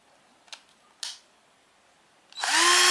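Cheston cordless 10mm drill spinning up at its faster speed setting, a loud steady whine that starts after two brief clicks and continues close by.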